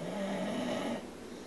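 A dog snores in a quiet room, one drawn-out, droning breath that is clearly audible on its own and fades toward the end.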